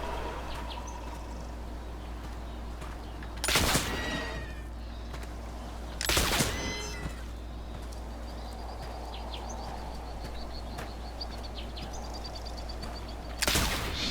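Gunshots from hunting in The Oregon Trail (2022) video game, three sharp cracks spaced several seconds apart, each one loud and set over a low steady ambient bed with faint bird chirps.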